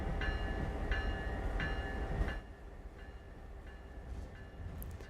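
A GO Transit commuter train in Train Sim World 6 rolls along with a low, steady rumble and a few evenly spaced rail clicks, then the rumble drops to a softer, quieter hum.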